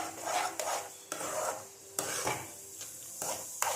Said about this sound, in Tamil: நல்லா போட்டு கிண்டிக்கிட்டே இருங்க